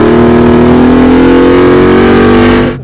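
A 2013 Chevrolet Camaro ZL1 or Ford Mustang Boss 302 Laguna Seca Edition accelerates hard on a race track out of a corner, its loud engine roaring steadily close by for nearly three seconds before easing off, with no voices.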